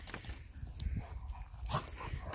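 Dogs in a pack at home shuffle and scuffle close by, with soft thumps and brief growly vocal bursts, fairly quiet and irregular.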